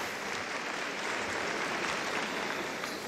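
An audience at the Crufts dog show applauds, a steady wash of clapping from a large indoor crowd, loud and continuous for the whole stretch.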